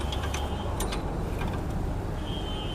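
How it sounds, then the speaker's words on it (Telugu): Bolts are tightened on the bed of an Ape auto rickshaw: light metallic clicks and ratcheting taps come in short bursts over a steady low hum. "ఇప్పుడు ఇక బోల్ట్ వేసేద్దాం."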